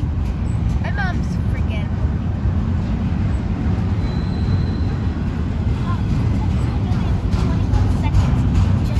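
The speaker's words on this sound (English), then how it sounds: "Just to have this train get over here." A train passes at Dutchtown, a loud continuous low rumble of rolling rail cars close by, with people talking faintly in the background and a brief squeal early on.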